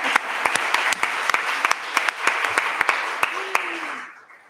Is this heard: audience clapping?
yes